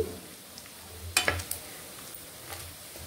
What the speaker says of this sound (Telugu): ఇంకొక 2 మినిట్స్ అయితే మనకి చికెన్ వేగిపోద్ది